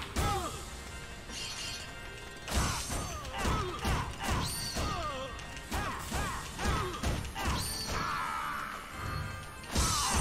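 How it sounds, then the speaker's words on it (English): Repeated heavy smashes and thwacks from combat against crowds of enemies in the video game Drakengard 2, loud, dense impacts with swooshes and a game score underneath, no talk. "I'm just smashing the shit out of all of these guys"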